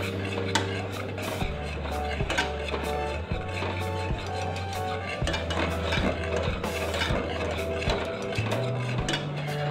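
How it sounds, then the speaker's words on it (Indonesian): A spoon stirs a thickening milk and cheese mixture in a pot, scraping and knocking against the metal in a steady, close rhythm over a low continuous hum. "Sekarang kita aduk-aduk sampai mengental ya"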